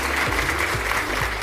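Steady applause fills the moment, continuous dense clapping at an even level, with a low hum underneath.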